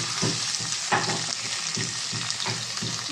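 Tomatoes fry in a pan in a steady, close sizzle, broken by rhythmic scraping stirs roughly every half second.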